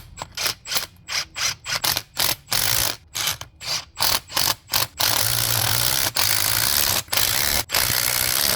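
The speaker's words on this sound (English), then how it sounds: "torque these bolts down to 40 Ugga-Duggas, or if you're from America, that's 40 foot-pounds" A ratchet wrench torques bolts down to 40 foot-pounds. It gives repeated close, sharp clicking bursts in a steady rhythm, then a longer continuous run broken by a few single clicks.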